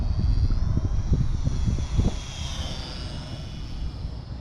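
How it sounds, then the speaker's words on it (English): The small brushed electric motor and gears of an XK T-28 Trojan RC plane whine steadily at a high pitch with a faint gear buzz, rising briefly midway, over heavy low wind rumble and buffeting. "The gears on this one aren't as noisy as the E-Machine model, but it's still a brushed motor"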